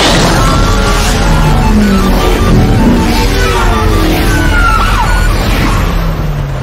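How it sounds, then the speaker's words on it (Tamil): An ambulance siren wails with rising and falling tones, loud and close, through the steady roar of heavy rain during a drive in a downpour. "ஆம்புலன்ஸ்"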